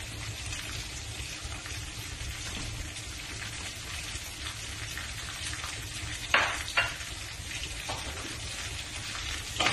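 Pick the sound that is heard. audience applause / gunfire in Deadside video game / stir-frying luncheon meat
stir-frying luncheon meat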